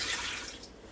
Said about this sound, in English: I'm going to put just a little bit over a cup of water in the Instant Pot here